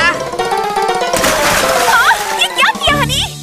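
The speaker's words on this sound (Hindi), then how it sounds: "अरे बनी डूब रहा है।" Cartoon water splash in an animated cat-and-mouse chase, a loud burst of splatter and sloshing over background music, followed by squeaky cartoon sound effects.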